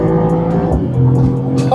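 A 2026 Mercedes-Benz SL63 AMG at full throttle, its engine roaring loud and steady with rising harmonics through a brief burst of acceleration, heard from inside the car.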